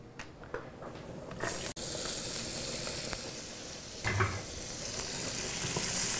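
Chopped onions fry with crispy pancetta for a spicy vodka, tomato and cream penne, filling the space with a loud continuous sizzle and hiss that swells toward the end, punctuated by a few stirring knocks.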